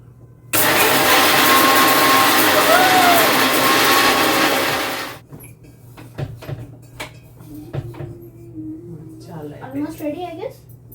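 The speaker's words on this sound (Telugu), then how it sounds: "ఇది మిక్సీ మాడల్ రిచర్డ్స్" A Richards mixer grinder whirs loudly for about five seconds while grinding fenugreek powder, then stops abruptly, leaving quiet kitchen clatter and soft voices.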